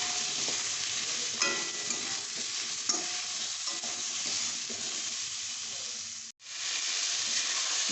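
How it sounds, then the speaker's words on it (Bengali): Ridge gourd pieces with salt and turmeric fry in oil, a continuous close sizzle with occasional stirring scrapes, briefly cutting out near the end before resuming. "ঝিঙেটা এরকম ভাজা ভাজা হয়ে গেলে ঝিঙেটা তুলে রেখে দেবো"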